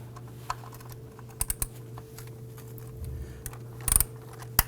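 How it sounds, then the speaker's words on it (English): An 8mm socket loosens the ignition coil bolt on a 2008-2011 Ford Focus 2.0L four-cylinder engine, giving a few sparse metallic clicks and a short ratcheting burst near the end over a steady low hum. "we want to go ahead and remove the 8mm bolt holding the ignition coil in place"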